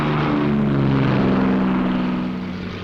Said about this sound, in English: the P-38s get underway.